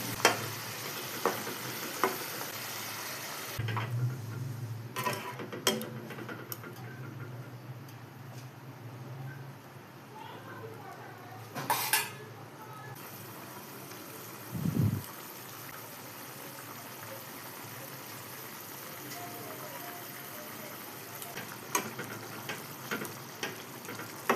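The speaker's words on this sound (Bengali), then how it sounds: "এরপর আমি ভেজে রাখা মাছটা দিয়ে দেবো।" Fried fish goes into a simmering fish curry in a pan. A steady, fairly quiet sizzle runs throughout, broken by a few sharper clatters and stirring knocks, and no one speaks.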